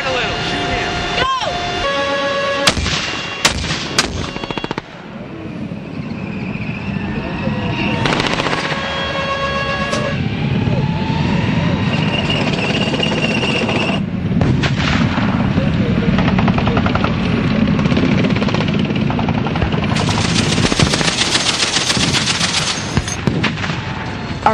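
Gunfire during an armored army training exercise, with sharp bursts and booms in the first seconds and again around ten and twenty seconds, over a steady engine rumble and occasional voices.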